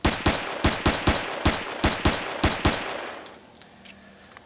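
Rapid pistol shots fired in a video game, about ten sharp reports in an even burst lasting three seconds, loud and close, then breaking off into quieter background game noise.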